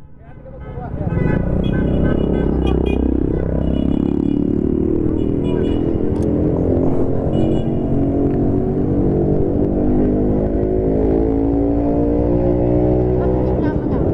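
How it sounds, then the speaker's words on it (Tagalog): Engine hum of a car on a road between Lopez, Quezon and Tagaytay, steady and loud throughout with rising harmonic tones as it passes close by, while people chat over it. "Ay, may sasakyan."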